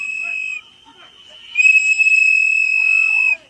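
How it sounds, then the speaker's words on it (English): Shrill whistles blow at a protest during an ICE raid confrontation, one short blast followed by a long sustained piercing whistle, loud and close against otherwise quiet background. "Stupid whistles."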